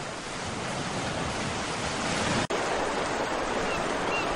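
A summer rain shower in a video game makes a steady, dense hiss of falling rain that fills the whole stretch, broken by a single brief dropout about halfway through.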